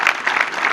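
A brief burst of applause from a crowd at a political speech, a dense steady patter of many hands filling the whole moment.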